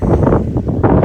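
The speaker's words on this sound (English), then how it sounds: "it's really windy and it's really sunny" Strong outdoor wind buffets a microphone on a sunny wintry day, a loud continuous roaring rumble with gusting surges over about a second, no voices.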